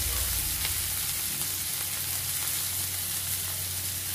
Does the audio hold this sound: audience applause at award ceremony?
no